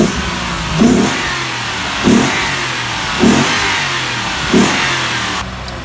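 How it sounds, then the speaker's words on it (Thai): A Toyota 3UZ V8 of nearly 300 horsepower, fitted in a Chevrolet, idles and is revved four times in an even rhythm, each loud, short blip rising over the steady idle, close by. "เดี๋ยวเราจะลองเบิ้ลให้ฟังนะครับว่าเสียงหวานๆเป็นยังไง"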